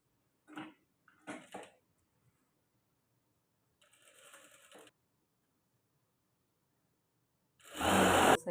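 A sewing machine stitches blouse fabric in short, separate bursts, brief clicks and whirs at first, then a longer, louder run at the end, close and quiet between bursts, with no speech.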